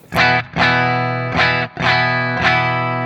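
A high-gain electric guitar through a Blackstar St. James amp plays loud, distorted chords, struck four times with sustained ringing between short gaps.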